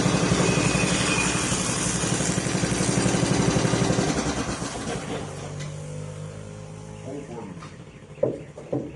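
A motorcycle engine runs loudly at close range with a rough, throbbing idle, then fades away, leaving quieter background sounds and a few sharp knocks.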